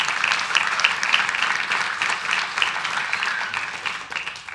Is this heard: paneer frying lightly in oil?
no